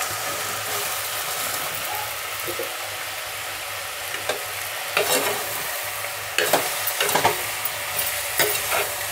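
Chopped ridge gourd, tomato and chickpeas are stirred with salt and turmeric in a hot pan. A soft, continuous frying sizzle sits under repeated close scraping and clattering strokes of the spoon.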